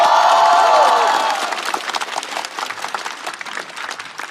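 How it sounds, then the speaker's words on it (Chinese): Loud audience applause and cheering with whoops greet a performer at a comedy roast show, peaking at the start and then thinning into scattered clapping. "让我们掌声欢迎 Shark"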